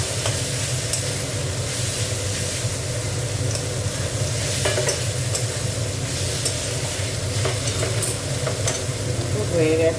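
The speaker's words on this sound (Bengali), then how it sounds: "হয়ে গেছে শাক ভাজাটা।" Leafy greens (saag) stir-frying with scattered nuts in a pan, a steady close sizzle with scraping stirs and clinks running throughout, no talking.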